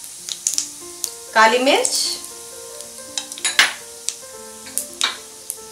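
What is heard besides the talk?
whole spices sizzling in hot oil: cumin, bay leaves, cinnamon, cloves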